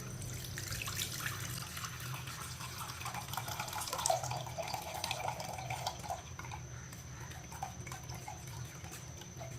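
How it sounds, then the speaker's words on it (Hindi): Mango juice for raw-mango sharbat strained through a sieve into a large pot, giving a steady soft trickle and drip of liquid that runs evenly throughout with no talking. "अब इसे छान लेंगे सारे जूस को"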